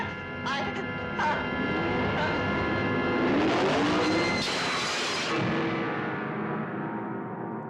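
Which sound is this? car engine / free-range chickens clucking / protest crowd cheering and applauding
car engine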